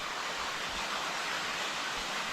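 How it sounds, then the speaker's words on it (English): A rainforest waterfall in Costa Rica pours in a steady, even rush of broadband noise that continues unchanged throughout, with no one speaking. "And this is the waterfall."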